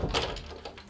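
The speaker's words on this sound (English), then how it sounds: "I'm gonna close the doors here" Doors are closed in a home workspace, producing a quick muffled thunk and sliding rattle, close and brief, followed by a fainter second knock.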